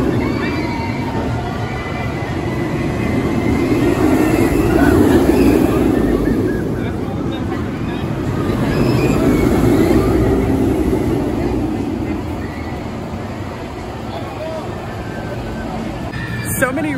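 Riding the Banshee B&M inverted roller coaster at Kings Island yields a loud, steady roar of wheels on track, rising and falling in long swells as the train sweeps through its elements.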